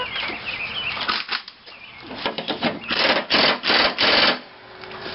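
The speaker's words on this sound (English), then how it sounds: "we'll hit this one time with the air wrench" An air impact wrench fires in short rattling bursts while tightening a grease fitting into the spindle housing of a Troy-Bilt mower deck, with several loud hammering pulses close up in a workshop.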